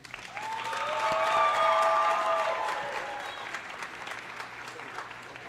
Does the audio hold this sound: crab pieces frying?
no